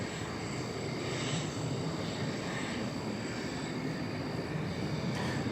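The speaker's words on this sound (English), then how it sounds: "That appears to be a Saab 340B." A Saab 340B turboprop cargo feeder passes at DFW Airport as a steady, faint, broad engine roar with a thin high whine, holding level throughout and heard from a distance with no voices.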